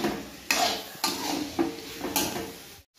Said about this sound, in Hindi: अब इसको अच्छे से फिर चलाते हैं।